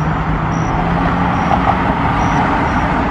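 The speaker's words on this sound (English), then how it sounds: "you probably can't hear me over the sound of the cars." Road traffic roars nearby, a loud, steady wash of engine and tire noise from passing vehicles with no pauses.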